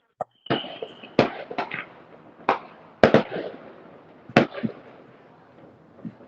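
Fireworks bursting outdoors on American Independence Day, a series of sharp loud bangs at uneven intervals with crackling tails, some close and some farther off.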